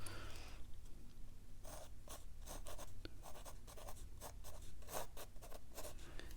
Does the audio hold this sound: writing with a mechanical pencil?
yes